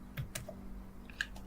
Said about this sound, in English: I can just type newsletter